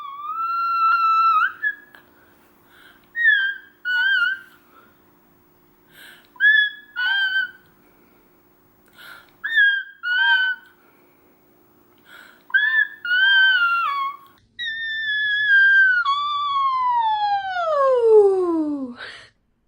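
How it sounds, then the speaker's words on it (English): Whistle-register singing in a passaggio exercise, with short high-pitched vocal phrases sliding and stepping between notes, then a long sustained tone that glides downward at the end, close and clear with a faint steady hum underneath. "I'm going to show you a passaggio exercise in whistle register"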